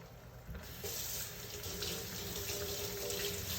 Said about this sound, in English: let me wash my hands again real quick